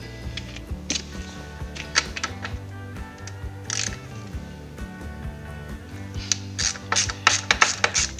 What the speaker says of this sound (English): you're going to need a 12mm socket. So yeah, let's just go ahead and undo this lot.